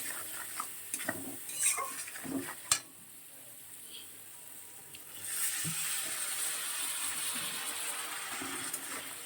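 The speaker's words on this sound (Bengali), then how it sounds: "এবারে মশলাটা খুব ভালো করে কষিয়ে নেব।" Masala for a katla fish curry, with turmeric and chilli powder, is stir-fried in a pan. It starts with scattered scraping clinks, then a steady, fairly loud sizzle carries through the rest, with no talking.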